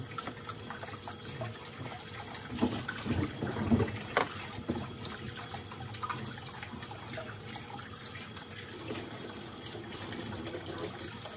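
Hot tap water runs steadily, a continuous trickling gush that swells for a moment partway through and then settles back, with no talk.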